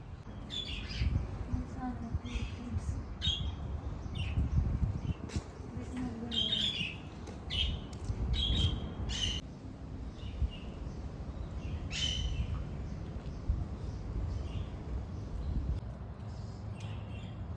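Birds call and squawk at a forest bird sanctuary along the Karnala Fort trek near Panvel, Maharashtra, in short chirps scattered throughout, some near, over a busy background murmur.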